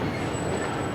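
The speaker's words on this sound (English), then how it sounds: "There's a train coming on board" Heavy train rolling onto a ferry deck, a close, continuous low rumble and rattle of rail wagons over a brief stretch, with no voices.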